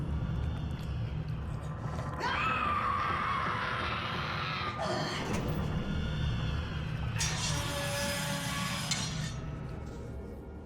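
A distorted, eerie scream rises out of dense, metallic game ambience in BioShock, with a second harsh burst following a short gap, both loud and clear over the constant low rumble.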